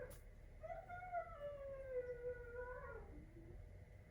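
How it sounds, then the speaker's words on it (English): A dog howls outside, one long, wavering, drawn-out howl lasting about two and a half seconds, heard faintly at a distance and ending in a short lower whine. "There's a dog making noise outside."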